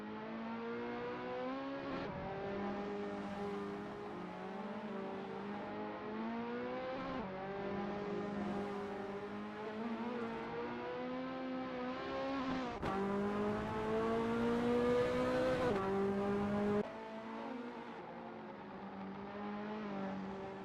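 Ferrari F40 race cars warming up at Donington Park National in a racing video game, engines droning steadily with repeated rises and drops in pitch as they rev through gears, loud and continuous throughout.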